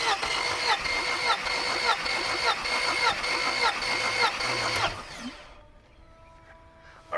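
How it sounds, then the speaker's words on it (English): A Mercedes W124 engine cranks during a compression test, with a rhythmic starter whirr running for about five seconds and then stopping abruptly, leaving a quiet tail. "Now we are on to number 3. Let me crank it."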